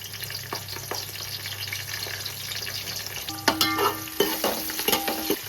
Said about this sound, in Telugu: ఆయిల్ వేడెక్కిందండి. ఫస్ట్ అయితే ఉల్లిపాయలు వేసుకుందాం.